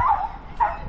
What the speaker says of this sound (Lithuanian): šuniokas gražiai triukšmauja